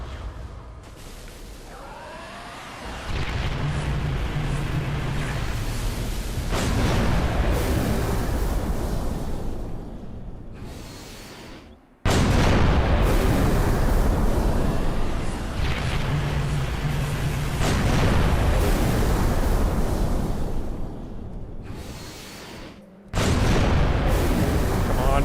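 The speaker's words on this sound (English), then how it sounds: "I should probably just spawn in a really strong vehicle and kill it instantly. Yeah, I'll just gun tower it to death." Gun tower weapon fire pounding a vehicle in Halo 3 Forge, heavy booming blasts with whooshes in long sustained bursts, loud and close, broken by two short gaps before firing resumes.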